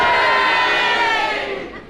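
Studio audience at a panel comedy recording bursting into loud, dense cheering and shouting that fills the room, then tails off slightly toward the end.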